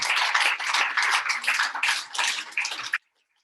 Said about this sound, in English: Let's clap for Margaret.